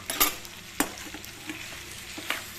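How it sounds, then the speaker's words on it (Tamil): Potatoes go into a pan of frying masala for a potato pepper fry and are stirred, bringing a few sharp spoon clanks against the pan over a soft continuous sizzle, close and without voices. "இதில் நம்ம இந்த உருளைக்கிழங்கு போட்டுடலாங்க."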